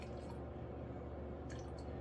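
Antifreeze coolant mix pouring back into its container, a steady low liquid wash running throughout with a couple of faint splashy drips near the end.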